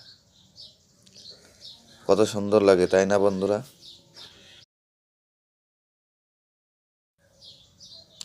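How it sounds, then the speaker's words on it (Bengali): Birds feeding on scattered rice chirp and tweet faintly, with a brief burst of close talking in the middle before the chirps return near the end. "পাখিগুলো কি সুন্দর ভাত দিয়েছিলাম, ভাত খাচ্ছে"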